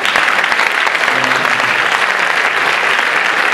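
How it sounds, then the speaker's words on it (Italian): Sustained audience applause at a concert in Asti, dense and steady throughout, filling the hall with continuous clapping and no voices standing out. "un grande applauso"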